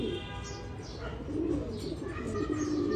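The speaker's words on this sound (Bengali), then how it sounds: "এটা আর একটা কবুতর" A Ferozpuri pigeon gives soft, rolling coos nearby, a continuous low murmur with faint chirps above it and no clear speech.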